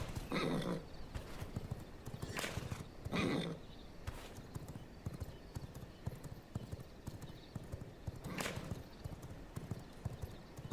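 A horse called in a video game, with steady clip-clop hoofbeats throughout and several loud, sharp neighs and whinnies, close and unaccompanied by talk.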